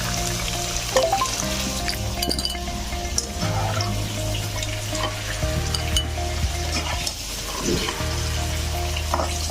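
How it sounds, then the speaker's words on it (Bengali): Potato pieces fry in hot oil with a continuous close sizzle while a utensil scrapes and clinks, lifting them out of the pan. "আলুগুলো আমি ভেজে নিলাম এবার আমি তুলে নিচ্ছি আলুগুলো"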